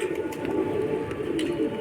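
A prized surma pigeon on a Bhopal rooftop, a low soft cooing murmur over a steady background hum.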